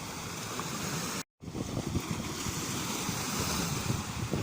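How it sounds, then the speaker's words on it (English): Steady roar of waves surging onto a beach at Great Yarmouth as the tide pushes in, with wind buffeting the microphone and a brief dropout early on. "The tide's really starting to push in now."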